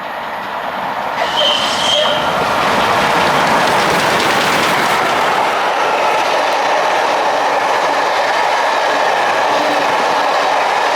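A train passes on a railway near Tindale Fell Waggonway, Brampton, Cumbria, a loud continuous rumble and rush of wheels with a brief high squeal early on, sustained steadily throughout.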